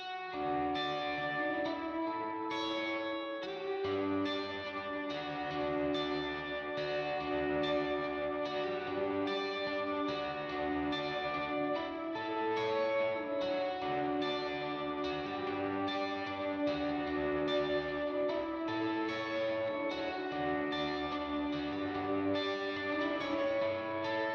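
Electric guitar plays the lead-in to the bridge of a song, run through effects that add echo, shimmer and slight distortion, sustained chords and ringing notes continuing steadily and loud with no talking.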